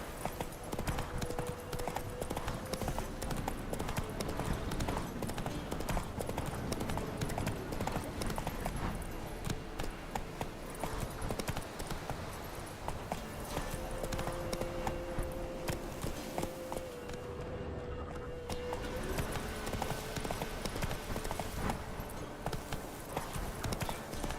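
Roach, a horse in The Witcher 3, clip-clops steadily on hooves through the whole stretch, a dense continuous rhythm under game music and ambience, with brief voices now and then.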